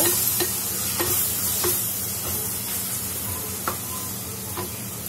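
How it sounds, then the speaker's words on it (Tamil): Tomatoes sautéing in a pan give a steady, close sizzle with frequent stirring scrapes, some sharp, at uneven intervals. No one speaks. "தக்காளி நல்லா வதங்கட்டும்."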